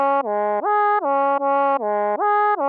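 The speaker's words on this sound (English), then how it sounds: "For the final sound of the melody, we came into Omnisphere and chose this pro soloist analog oboe." An Omnisphere pro soloist analog oboe synth plays a short melody alone, its reedy, buzzy tone stepping between a few held notes in a steady repeating rhythm, clear and close.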